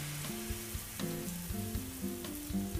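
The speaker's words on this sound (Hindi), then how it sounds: "और अभी मैं इस पे तवे पे डाल देती हूँ यो पूरा बनने के लिए बैटर" Chilla batter sizzling on a hot tawa, a soft steady frying hiss with faint scraping and light clinks from a small bowl spreading the batter, no voices.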